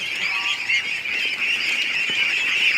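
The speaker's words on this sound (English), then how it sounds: "let's let the ducklings out" A crowd of ducklings let out of their pen keeps up a dense, continuous high peeping chorus, loud and close, with no voices over it.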